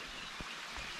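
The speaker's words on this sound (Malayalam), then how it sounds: "കുഞ്ഞി അരുവിയൊക്കെ ഉണ്ട്" Water rushes in a steady, soft hiss like a small stream running over rocks in Kanthalloor, heard faintly and continuously with a couple of light splashes.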